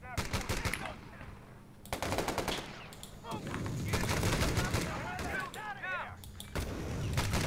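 Dense machine gun fire and bursts of gunfire in the Company of Heroes 3 war strategy game, rapid rattling volleys, booming explosions and whistling shots layered into a loud, continuous battle soundscape.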